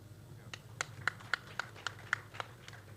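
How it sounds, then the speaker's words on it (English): Sparse, uneven claps from a small audience at an evening colloquium, about nine distinct hand claps spread over a few seconds, quiet and somewhat distant with no cheering. "Please, a round of applause for the panelist"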